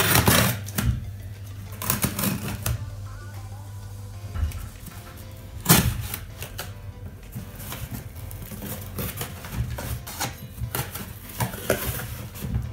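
A parcel of LEVRANA products is opened, with close rustling, crinkling and scattered clicks and knocks, plus a low steady hum in the first few seconds.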